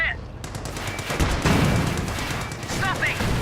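Small tanks in Company of Heroes firing on infantry, with bursts of machine-gun fire and heavier booming impacts blending into a rolling battle din, while someone talks over the action.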